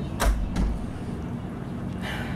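Two quick thumps of a door being handled, then a soft swish as it opens, close by against a low background hum.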